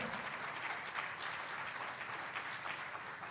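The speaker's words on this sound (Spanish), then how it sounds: "Si le va a dar el aplauso al Señor, déselo" Church congregation applauding during a sermon, a dense, steady wash of clapping from many hands, continuous and moderately loud throughout with no break.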